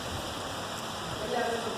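Heavy rain at Ayubia National Park, a steady hiss of rainfall filling the background while a voice talks faintly beneath it.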